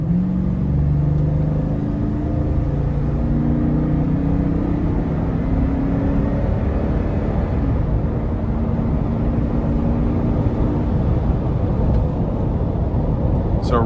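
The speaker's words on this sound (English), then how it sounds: "We're going to give it a little throttle here." A 2021 Toyota Sequoia Limited with a 5.7 V8 engine accelerates under throttle, producing a loud, steady low rumble with road noise heard from inside the cabin.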